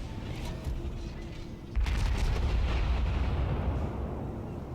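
Naval guns of the light cruiser Shchors fire in World of Warships, a heavy boom that hits partway through and turns into a loud, sustained roar over a rumbling background.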